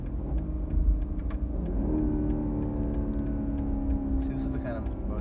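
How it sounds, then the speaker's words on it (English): A BMW M340i engine revs up while driving, a mid-pitched growl that climbs smoothly and holds as the car accelerates. People in the cabin talk over it. "See, this is the kind of motor sound that you just do it for the hell of it."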